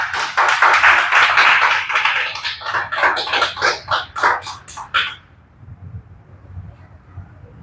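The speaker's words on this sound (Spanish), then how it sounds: "Dale otro aplauso a Cristo, Rey" A church congregation claps together in a quick rhythm for about five seconds, loud and lively, then stops abruptly, leaving a low, quiet murmur of the room.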